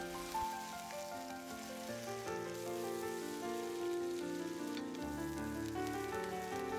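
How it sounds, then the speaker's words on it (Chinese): Water spinach and shrimp paste tossed in a hot wok give a dense, even sizzle like rain on a surface, steady and close over soft background music. "接下来继续翻炒，让虾酱的滋味包裹在空心菜上"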